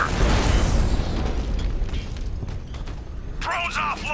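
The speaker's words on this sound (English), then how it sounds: "I can use the power winch to trigger a controlled explosion." A controlled explosion in the video game Batman Arkham Knight booms loudly and rumbles into a decaying roar, followed by a short electronic chirping near the end.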